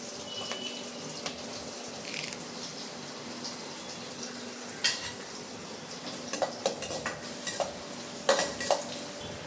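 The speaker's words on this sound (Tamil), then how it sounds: "வெங்காயம் நல்லா வதங்கிட்டோம் அதுலேயும் ஒரு கொத்து கருவேப்பிலை சேர்த்துடலாம்" Onions with a sprig of curry leaves sautéing in a pan for a kulambu, giving a low steady sizzle broken by scattered clinks and scrapes of a spoon stirring against the metal, with no voices.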